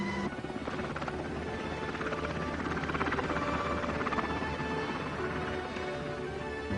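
A Sikorsky helicopter's steady, droning rotor roar fills the whole stretch, loud and continuous with a faint buzzing texture and no voices.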